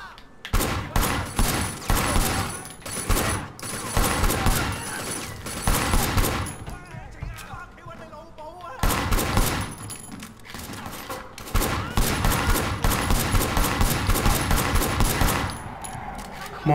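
Rapid automatic gunfire in the open-world action game Sleeping Dogs, long loud bursts of rattling shots separated by short pauses, close and dominant over the game's background.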